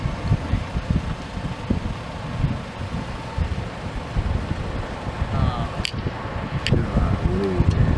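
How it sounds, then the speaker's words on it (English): Continuous low rumbling roar of a violent EF-4 tornado at close range in Iowa, heavy and broadband with wind buffeting the microphone, swelling toward the end; brief sharp cracks of debris stand out. "You can hear it. The roar."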